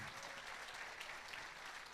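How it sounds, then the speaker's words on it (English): Big crowd applause at the opening ceremony of the Euro Business Cup in Antalya, Turkey: a dense, steady roar of clapping that stays loud and even throughout, with no pauses. "A very big applause for the Euro Business Cup team."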